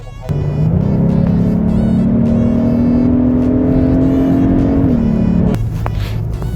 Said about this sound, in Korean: 지금 노멀 모드로 주행을 하고 있는데